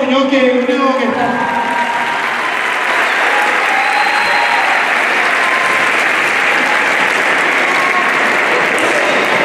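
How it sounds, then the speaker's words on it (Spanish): Loud, steady applause fills a school semester-end ceremony at an arts school, dense clapping from a large crowd following a brief fading tone at the start, continuing without pause. "Un aplauso a Don Hugo Muñoz, que es el único que está"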